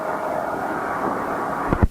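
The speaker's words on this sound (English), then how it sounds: "Sometimes, Frank even uses an airplane." A propeller airplane engine drones steadily at moderate distance, a continuous mid-range roar, ending in a couple of sharp thumps at the close.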